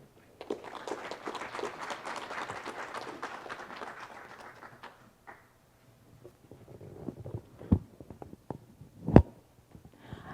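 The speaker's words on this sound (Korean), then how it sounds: "큰 박수 부탁드립니다" Applause from a seminar audience at a housing policy forum, moderate and thinning out after about five seconds, followed by a few scattered claps and knocks in a quiet room.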